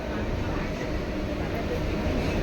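A steady, heavy rumble fills the inside of a moving passenger train, a continuous low roar of wheels and carriage with no breaks or distinct clacks.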